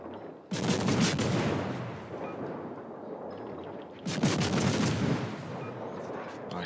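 Heavy naval guns of the ship Shimmer firing in a naval battle game, two loud booming salvos a few seconds apart, each with a long rumbling roar afterward.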